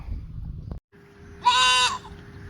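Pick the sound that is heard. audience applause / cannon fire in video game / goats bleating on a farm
goats bleating on a farm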